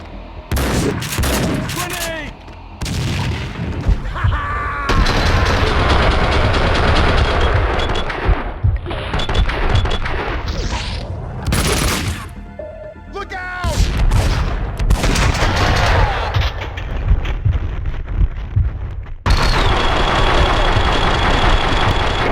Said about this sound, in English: If there's one thing that makes Max Payne 2 still hold up today, it's the shooting.